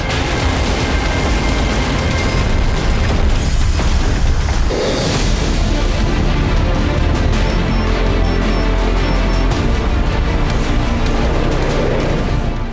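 North Korean anti-aircraft missile test launches and explosions produce a loud, continuous roar with repeated heavy booms and blasts rumbling throughout.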